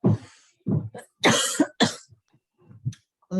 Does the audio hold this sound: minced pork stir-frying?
no